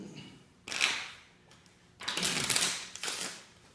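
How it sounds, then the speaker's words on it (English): A deck of playing cards being shuffled by hand, two bursts of riffling and flicking close by, separated by a quiet pause, with no talking. "So if you would just shuffle this deck up a bit, sir, please."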